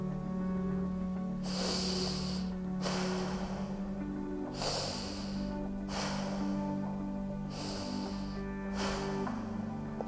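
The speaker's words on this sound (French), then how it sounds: "J'inspire, j'expire." Forceful, rhythmic breathing in and out during an energy-building exercise session, with about six sharp noisy bursts spaced a second or two apart, close and loud over a steady low background hum.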